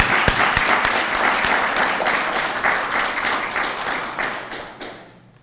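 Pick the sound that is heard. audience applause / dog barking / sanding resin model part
audience applause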